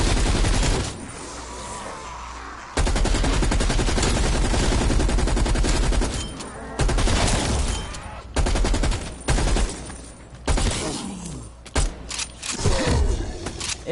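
Video game gunfire aimed at zombies: dense, continuous rapid bursts like machine-gun fire, loud and close, broken by short pauses and mechanical clicks, with no talking over it.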